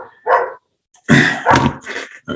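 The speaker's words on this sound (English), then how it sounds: "can you hear the dogs barking?" Several dogs bark loudly nearby in a few quick, sharp bursts with short pauses between them, with no talk over the barking.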